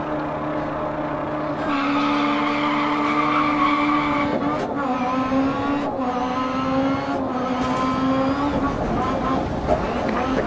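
Rallycross cars in Dirt Rally, a Mini Classic and an S1600 Clio, race with loud revving engines and long, rising and falling tire squeals through skids, continuous and close, with a voice talking over the noise.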